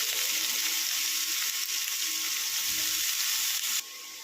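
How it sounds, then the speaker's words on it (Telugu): Green and dry chillies frying in hot oil in a pan make a steady, dense, close sizzle that drops abruptly in level near the end. No voices are heard. "పచ్చిమిర్చి ఎండుమిర్చి అనేది ఇలా వేగిపోవాలండి"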